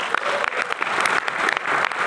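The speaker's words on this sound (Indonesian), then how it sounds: "kita tepuk tangan untuk kalian" A seated audience at a business organisation's talk claps steadily for about two seconds, a dense, close burst of applause with scattered sharper hand claps standing out.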